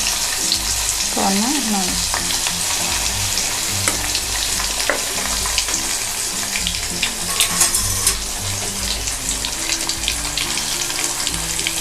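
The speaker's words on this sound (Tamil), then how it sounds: "இப்போ எண்ணெய் நல்லா சூடாகிடுச்சு. இப்போ நம்ம வந்து ஃபிஷ்ஷை உள்ளே போடலாம்." Two large fish laid into hot oil in a home kitchen, giving a steady, close, loud sizzle and crackle that runs throughout, with brief stirring and a few short words of speech.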